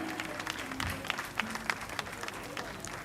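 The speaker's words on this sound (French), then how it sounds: "Sur scène pour recevoir son Corri sous vos applaudissements, s'il vous plaît" An audience at the Cauris 2012 award ceremony claps steadily as a nominee comes up to the stage, a moderate, somewhat distant patter of hands with a few sharper claps standing out and a low murmur underneath.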